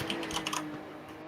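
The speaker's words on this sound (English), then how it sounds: "we can hear you typing" Quick clicking keystrokes on a computer keyboard are picked up by an open microphone, a short burst of close taps that fades into quiet.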